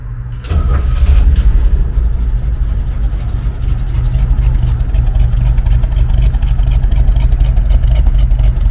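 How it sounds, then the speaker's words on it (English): A 1965 Chevy C10 truck engine with a new exhaust cranks and catches, then settles into a deep, steady rumbling idle through the exhaust, close and loud. "I'll start it up for you if you want to see what the exhaust sounds like."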